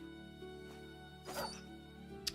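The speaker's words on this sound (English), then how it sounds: "Dog is running." A dog in a video game gives a short whimpering yip and a sharp high yelp, faint and brief against a steady tonal game background.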